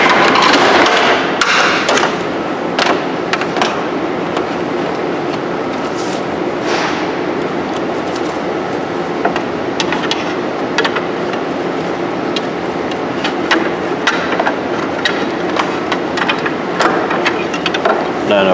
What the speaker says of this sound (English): we could go ahead and start prying and working at that